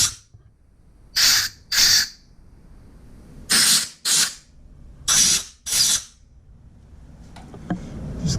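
Compressed air blowing out the head bolt holes on an RC51 motorcycle's rear cylinder: six short, loud hissing blasts in pairs, each under a second, close by with quiet pauses between.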